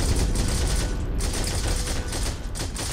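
Dense automatic gunfire rattles nonstop from a first-person shooter firefight in Heroes and Generals, loud and close, with rapid bursts overlapping throughout.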